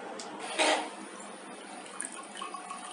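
Water pours from the pump on a bottled-water jug into a glass, a close steady trickling flow with one louder splash near the start and small gurgles after.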